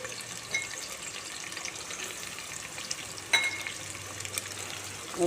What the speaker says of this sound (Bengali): এখন পেঁয়াজটা ভাজতে হবে। তেল দিয়ে দিলাম, আর কটা কাঁচা লঙ্কা এর মধ্যে দিয়ে দিলাম।